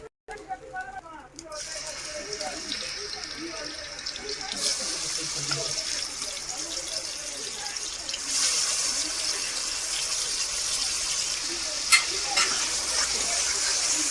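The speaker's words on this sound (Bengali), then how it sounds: "কড়াইতেই আমি আবার তেল দিয়ে দিলাম, চিংড়ি মাছটা ভাজবো।" Steady, close hiss and crackle of shrimp frying in hot oil in a wok, growing louder after a quiet start, with an occasional clink of a utensil.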